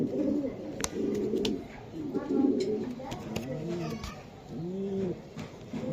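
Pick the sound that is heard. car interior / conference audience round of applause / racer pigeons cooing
racer pigeons cooing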